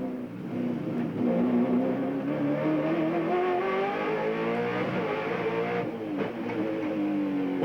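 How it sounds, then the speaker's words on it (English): A 1996 Ford Falcon V8 touring car races on the Wellington street circuit, its engine note rising steadily as it accelerates and then dropping briefly before climbing again, loud and sustained, with no speech. "racing around the streets of Wellington with a great Aussie V8"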